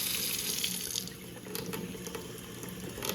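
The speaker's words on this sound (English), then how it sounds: "So we're going to reduce this to a trickle, it says." A kitchen sink faucet runs as a steady stream of water, splashing without a break into the basin for the whole stretch, close and fairly loud, with no talk over it.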